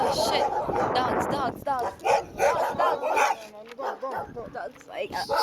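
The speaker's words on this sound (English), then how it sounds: "Oh shit. Dogs." Several dogs bark and yip near a cave site in Curacao, sharp repeated barks mixed with people talking close by.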